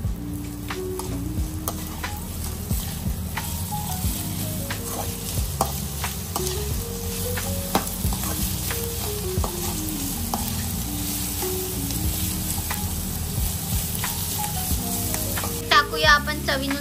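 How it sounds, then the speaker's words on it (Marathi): Sprouts, onion and capsicum stir-frying in a pan with continuous sizzling and spatula scraping, and a melodic background tune running throughout. "तर याच्यात आपण आता टाकूया कांदा, शिमला. आता आपण मस्त मिक्स करून घेऊ."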